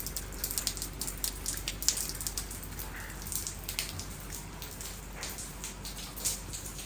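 Rain falling outside a top-floor hotel room in Lucknow, a steady wash of hiss with scattered close drips and patters throughout.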